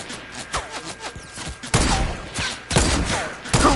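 Gunfire in a video game crackles in uneven bursts, with several sharp, loud shots and clustered volleys spread across a few seconds, close and punchy with no talk over them.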